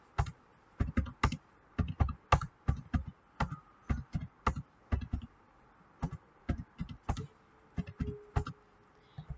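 Keys on a computer keyboard are pressed in short bursts as array elements are typed in, a close, quiet clatter of separate clicks broken by brief pauses.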